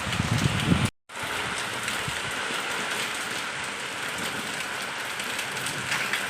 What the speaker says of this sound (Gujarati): જોઈ લો આ એક ઝલક વરસાદની ને પવનની